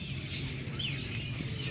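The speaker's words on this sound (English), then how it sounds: "the chirping is just out of control" Birds chirp constantly and frantically at about 6:40 in the evening, a dense, agitated chorus of overlapping tweets held at an even, loud level over a low background rumble.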